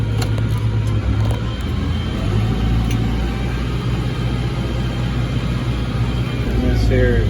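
A Ford 7740 diesel tractor engine runs steadily while reversing, a loud, close, constant low rumble with a humming drone throughout, and someone talks over it.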